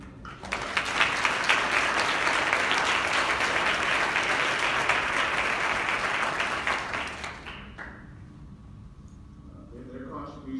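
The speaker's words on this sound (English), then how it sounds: "Just one more short round of applause for you." Audience applause at an International Women's Day event, sustained dense clapping for about seven seconds that tapers off as a speaker resumes talking.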